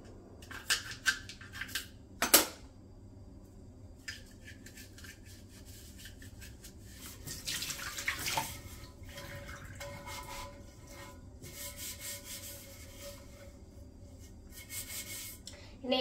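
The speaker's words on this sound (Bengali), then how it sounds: "এই যে মেজে ধুয়ে দিচ্ছি" Water bottle with waterproof stickers being scrubbed and washed by hand, soft intermittent rubbing and splashing strokes with a few sharper clatters, close but quiet, no talk.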